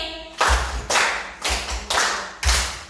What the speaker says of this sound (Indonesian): Ayo tepuk 5 mulai.